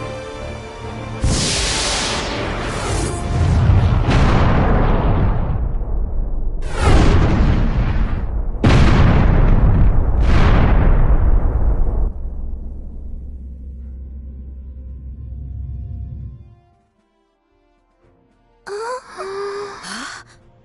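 Incoming fire from an unknown vessel in the Star Ocean: The Last Hope space battle, five heavy booming explosions a couple of seconds apart, each rolling off into a low rumble, followed by silence and a brief burst of sound.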